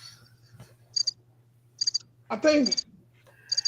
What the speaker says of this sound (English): You hear the crickets, man?